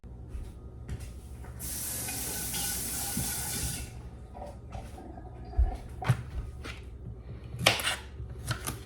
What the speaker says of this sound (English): a couple of zucchinis I'm going to rinse off.